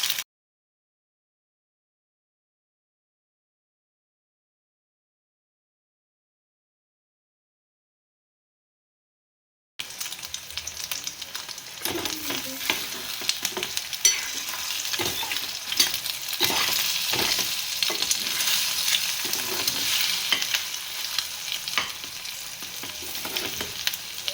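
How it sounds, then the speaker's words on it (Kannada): Eggs and potatoes are stirred together in a hot frying pan, a close, busy sizzle with continuous scraping and stirring that starts abruptly after a long silent stretch and carries on steadily. "ಎರಡನ್ನೆಲ್ಲ ಹಾಕಿ ಮೊಟ್ಟೆ ಮಿಕ್ಸ್ ಮಾಡಬೇಕು"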